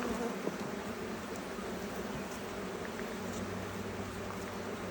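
Honey bees in a Flow Hive make a dense, constant buzzing drone that stays level throughout, close and full, with no voices.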